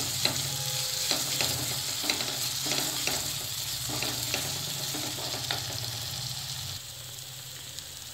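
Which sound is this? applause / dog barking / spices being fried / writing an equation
spices being fried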